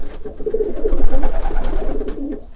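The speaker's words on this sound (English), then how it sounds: "all the birds want to go crazy now in the background" Pigeons coo in a low, murmuring chorus, loud and close, with rustling underneath.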